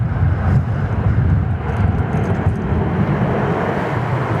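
An aircraft lands on runway 34 left at Sydney Airport, its engines producing a steady, loud, broad roar that holds evenly across the whole stretch with faint higher-pitched whine on top.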